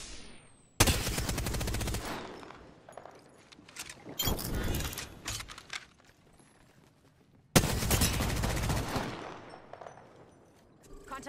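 Automatic gunfire in a video game firefight, with loud sustained bursts that start abruptly, drop off, and return in a second long burst, separated by quieter stretches with distant shots.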